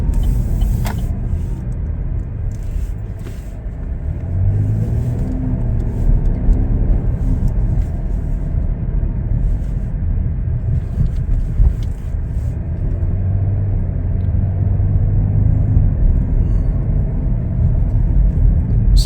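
A 2021 Chevrolet Blazer LT pulling away under acceleration, heard from inside the cabin as a low steady road rumble and engine hum that swells a little with speed, with no talking.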